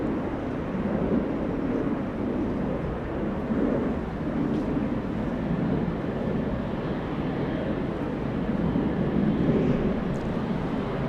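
An airplane at Los Angeles International Airport produces a steady, low, rumbling jet roar with faint wind noise, held at an even level throughout, with no talking.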